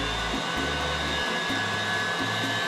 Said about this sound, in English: For our vegetable mixture, we're going to need to grind our bacon. So now we're just going to run that on through here.